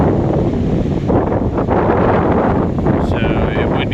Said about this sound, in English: Winds are blowing about 20-ish.